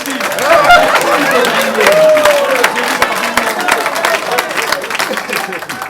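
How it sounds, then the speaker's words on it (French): Audience applause at a formal public ceremony, steady crowd clapping mixed with cheering and chatter that holds at a fairly loud level throughout, with a brief tonal sound rising above it midway. "Applaudissez pour vous"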